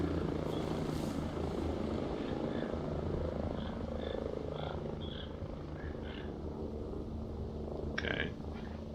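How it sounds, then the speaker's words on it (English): A helicopter flies overhead in the video game Ghost Recon Breakpoint, a steady low rotor thrum and engine hum holding throughout at moderate distance, with faint intermittent game effects and a brief sharper burst near the end. "we've got a helicopter flying overhead now"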